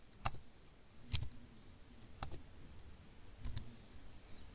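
A few sparse, separate keystrokes tapped on a computer keyboard while text goes into a web form's search field, each a short sharp click with quiet gaps between, close and clear with no voices.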